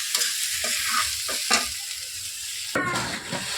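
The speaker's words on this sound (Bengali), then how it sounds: "যতক্ষণ না কড়াই থেকে ছেড়ে আসছে মশলাটা, ততক্ষণ মিশিয়ে নিতে হবে" A thick spice paste for vegetable chops sizzles in a wok while a spatula scrapes and stirs it in quick, irregular strokes, close up.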